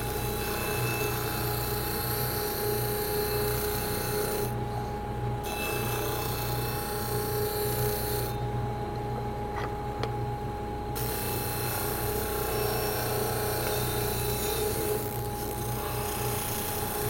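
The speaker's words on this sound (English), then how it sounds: "I'm just going to sand this piece off" Wood being sanded, most likely on a power sander, giving a steady, continuous abrasive rasping hum with a few brief dips, close and alone without speech.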